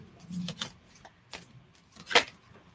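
Heart-shaped tarot cards from a new deck being shuffled by hand, a few soft papery riffles and slides with one sharper burst near the end, quiet and close with no talking.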